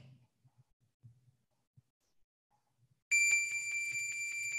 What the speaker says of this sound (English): That's a 10 second bell.